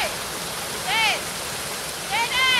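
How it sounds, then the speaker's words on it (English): Hot waterfall at Kerosene Creek, a steady hiss of falling, rushing water under people's voices, which break in twice. "So it's a hot waterfall."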